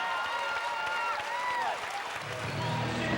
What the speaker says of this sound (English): How about a big round of applause for Bruce Huckfeldt?